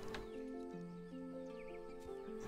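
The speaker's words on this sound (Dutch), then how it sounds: "Wow, dat paardje galoppeert heel erg raar." Horse sounds from a Paso Fino horse galloping with an odd gait in the online game Star Stable Online, with rhythmic in-game hoof and horse sounds under steady game music, no talking.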